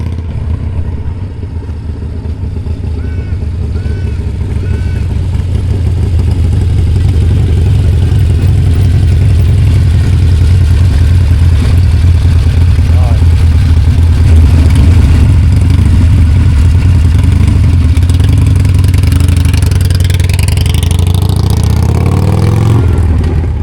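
A Harley-Davidson motorcycle engine runs loud and close for a long stretch, a steady deep rumble with throttle swells and rising revs near the end.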